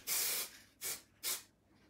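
Three close bursts of aerosol spray paint hiss onto a cushion cover, silver marble effect: one long burst and then two shorter ones, each sharp and breathy, with no talking.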